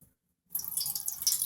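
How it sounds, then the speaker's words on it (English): After a brief silence, water starts running from the faucet of a homemade sink in a camper van, a steady close hiss and splash at low level. "So now we have running water"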